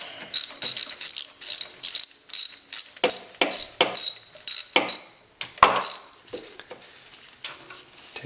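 A ratchet loosens engine bolts on a Honda Prelude during timing belt work, rapid close clicking bursts repeating in quick strokes with short pauses between, loud and sharp throughout.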